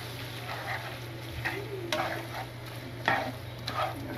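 Pasta carbonara with egg being stirred in a pan gives soft scraping strokes and a light, low sizzle, with a few louder scrapes, close and without talk.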